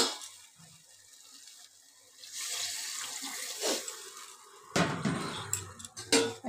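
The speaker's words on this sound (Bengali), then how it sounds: "যে বাটিটা ফুলকপি আলু ভেজে রেখেছিলাম সেই বাটিটা ধুয়ে জল দিয়ে দিলাম।" Water from a rinsed bowl splashes into a pot of cauliflower and potato curry, a close pouring gush with sporadic clinks of dishes and utensils and no talk.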